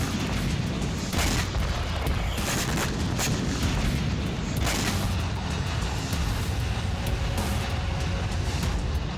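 Missile strikes on Kyiv during the Russia-Ukraine war: repeated heavy booms and blasts roll on over a loud, continuous rumble, with several sharper impacts standing out and no voices.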